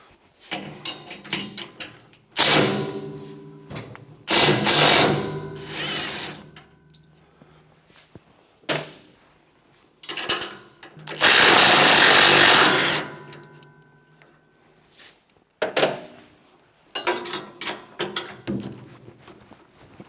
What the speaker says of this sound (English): I'm going to use my handy dandy impact here and see if I can break them loose